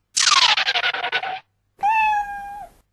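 A cat meows twice in a children's story: first a long, rough, pulsing meow, then after a brief pause a clearer, sustained, tonal meow. Both are close and loud, with no voices.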